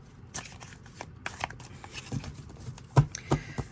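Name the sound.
shuffling a tarot card deck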